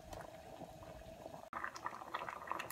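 Spaghetti boils in a pot of water with a soft, constant bubbling and gurgling close by, interrupted by a brief dropout midway before the low rolling boil returns.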